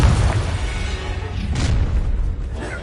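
Confringo fire spell blast in Hogwarts Legacy, a loud booming explosion with rumbling low end and a second burst midway, heard alone without talk.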